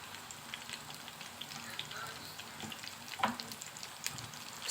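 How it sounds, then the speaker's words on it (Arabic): Eggplant frying in hot oil, giving a steady, moderately loud sizzle with crackling pops throughout and no talking. "ودلوقتي هنسلق البتنجان في الزيت اهو بالراحه كده عشان الزيت ما يطرطش"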